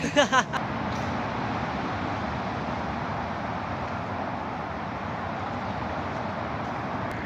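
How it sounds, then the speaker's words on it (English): Steady road traffic rumble near the A40 in suburban London by Yeading Brook, a continuous wash of passing vehicles at moderate distance, with a brief burst of voice at the start. "that traffic is really loud"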